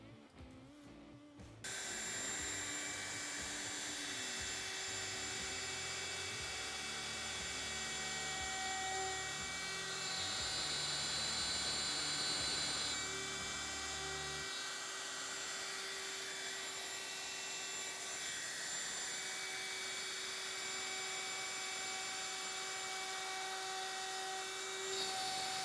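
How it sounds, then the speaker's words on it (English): Router cutting notches into a walnut conference table for C-channel legs, a sustained high whine that starts abruptly after a short stretch of quiet, steady and close with shifts in tone as the cut changes. "I decided to inlay them just with the router here"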